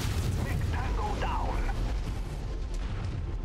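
In MechWarrior 5: Mercenaries, mech weapons fire and explosions rumble as a dense, continuous, loud roar of blasts and heavy low rumble, with a voice faintly audible underneath.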